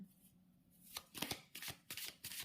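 A deck of playing cards being shuffled in several quick riffling bursts, fairly close and clear, starting after a quiet moment with no talk.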